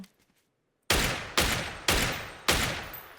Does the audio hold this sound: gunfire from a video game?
yes